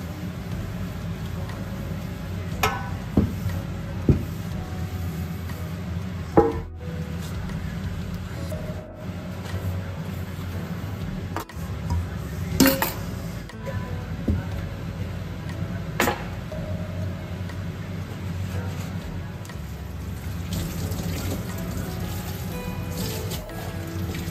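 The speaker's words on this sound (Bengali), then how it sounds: "সিঙ্কে যে কটা বাসন জমেছিল সেগুলো মেজে ঘষে ধুয়ে পরিষ্কার করে রাখলাম" Used pots and utensils from making mutton biryani are scrubbed and rinsed in a kitchen sink, with steady running water, scattered clinks and knocks of metal, and occasional scraping throughout.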